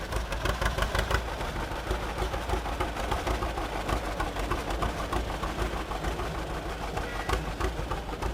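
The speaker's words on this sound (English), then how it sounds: "Clifford, thank you for bringing his tractor down the line" An old tractor engine rumbles steadily past in a parade at Old Iron Days in Fredonia, Kansas, a continuous, fairly loud chugging drone with faint voices in the background.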